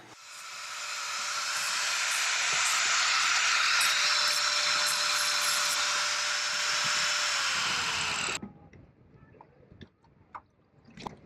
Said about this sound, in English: Best to get the grinder.